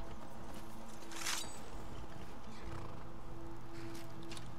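Horse neighing in the video game Skyrim, a short whinny rising over a constant outdoor ambient bed with soft hoof movement, fairly near and moderately loud, no speech.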